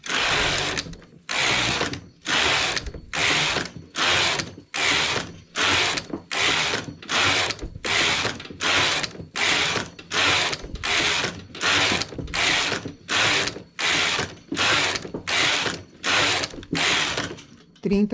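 A domestic knitting machine carriage knitting English rib rows, sliding back and forth in a fast regular rhythm of about twenty clattering ratcheting passes, loud and close with no voices.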